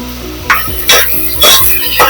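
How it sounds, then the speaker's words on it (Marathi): Turmeric being stirred and sautéed with onions in hot oil for a green moong curry, with scraping stirs and clinks of a spoon against the pan over a steady sizzle, repeating about every half second. "हळद व्यवस्थित तेलात आणि कांद्यात परतवून घेते।"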